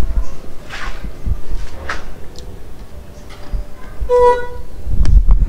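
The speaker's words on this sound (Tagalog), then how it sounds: "mahina ang busina" A short, thin car horn beep from a Mitsubishi Strada with a low battery sounds once amid clicks and faint background noise, fairly weak rather than a full blast.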